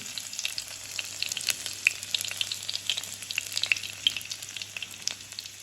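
Steady crackling sizzle of crushed garlic frying in hot oil, with sharp pops and spits scattered throughout, close by and continuous, with no voices.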